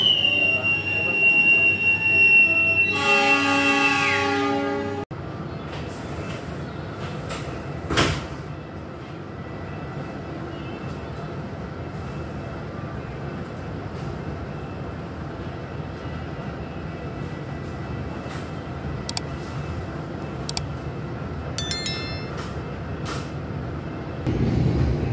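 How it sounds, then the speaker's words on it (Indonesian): The Argo Cheribon train pulls out of the station on its Jakarta–Cirebon run, high wheel squeals ringing at the start over steady rumbling, then a sharp bang and a long rolling clatter with brief squeaks and scattered clunks. "perjalanan kereta api Argo Cirebon sudah berangkat lagi dari"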